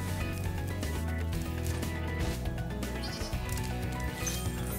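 A sheep on a grassy rooftop in Spyro Reignited Trilogy gives a faint, wavering bleat under steady game music and ambience.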